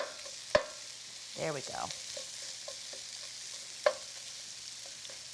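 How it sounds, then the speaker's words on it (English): Onions fry in a pan over the heat, a soft steady sizzle broken by a few sharp utensil knocks against the pan as they are stirred, and a voice speaks briefly. "Make sure all the onions are hitting the heat, broken up."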